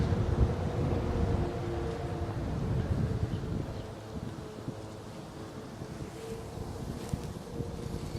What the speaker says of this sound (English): The wind isn't helping though